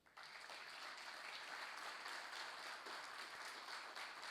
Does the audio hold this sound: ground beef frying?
no